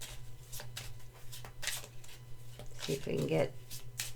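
Lenormand cards being shuffled and pulled from a deck, heard as quick papery riffles and soft slides under a steady low hum, with a person speaking briefly partway through.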